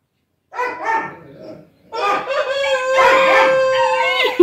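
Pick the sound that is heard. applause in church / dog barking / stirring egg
dog barking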